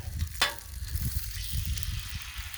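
One egg frying in an egg ring on a Blackstone griddle crackles and sizzles up close, with a bright scrape or tap near the start and a steady bubbling hiss afterward.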